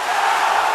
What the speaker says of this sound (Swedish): Nu blir det ännu värre jubel.